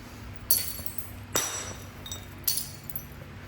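Sharp glassy clinks from a hammerstone striking stone while flintknapping a Pickwick point, four distinct strikes spaced irregularly over a low room hum, close and crisp.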